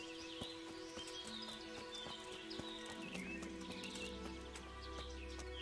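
A horse in the video game Kingdom Come Deliverance clip-clops at a steady pace with a neigh in the game soundscape, over faint birdsong and a low game-sound drone, quiet and without talk.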